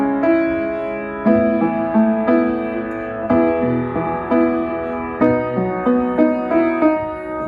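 Piano playing a section of a song, with melody notes over sustained chords and several clear phrase attacks, close and solo without any voice.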